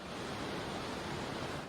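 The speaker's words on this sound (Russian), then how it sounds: "а внизу река" A river rushes far below the Devil's Bridge in the Swiss Alps near the Gotthard Pass, a steady broadband roar of flowing water, faint and continuous with no voices.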